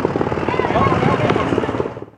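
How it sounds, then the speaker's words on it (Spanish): A helicopter's rotor chop and engine drone fill the scene, steady and fairly loud, with voices blended in underneath. "cuando vieron que se acercaba el helicóptero"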